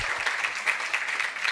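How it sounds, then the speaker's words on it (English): An audience at a conference claps for a speaker named Marcos, giving a short, steady burst of many hands applauding in a hall. "round of applause for Marcos"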